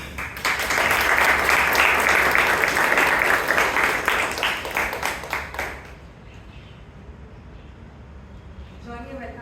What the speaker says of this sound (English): Let's give evaluating speaker a round of applause.